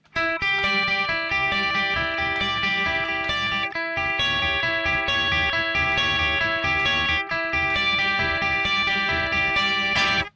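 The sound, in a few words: clean electric guitar riff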